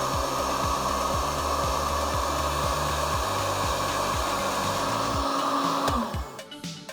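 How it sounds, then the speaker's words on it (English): A heat gun blows a steady, loud roar while it shrinks heat shrink tubing over wire terminals on a proton pack power switch. It runs continuously, then cuts off near the end. "Then we'll just melt the heat shrink."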